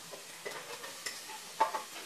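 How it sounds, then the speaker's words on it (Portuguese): Onion and garlic sautéing in olive oil in a pot: a faint, soft sizzle broken by light scrapes and taps of stirring, quiet and close. "aqui eu só vou refogar a cebola e o alho"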